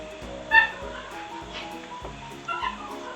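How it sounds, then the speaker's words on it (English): Small dogs yip and bark in short bursts somewhere in the background, with a faint whimper, over a low steady room hum. "Hear the puppies in the background."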